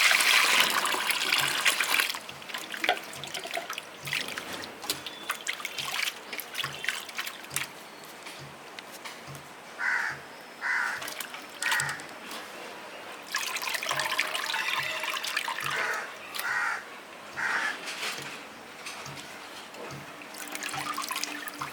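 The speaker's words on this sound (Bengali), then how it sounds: "আমার মাছটা ছাড়ানো হয়ে গেছে ধুয়ে নিচ্ছি ভালো করে" Cleaned, scaled fish being rinsed in water by hand: repeated splashing, dripping and trickling with intermittent bursts of sloshing, close and moderately loud, no voices.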